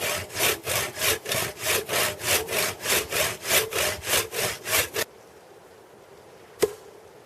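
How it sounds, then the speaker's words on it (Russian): A hand saw cuts through a felled tree in a winter forest, about fifteen steady, loud back-and-forth strokes in an even rhythm, then it stops abruptly, leaving quiet outdoor ambience and a single sharp knock. "и начинаю пилить."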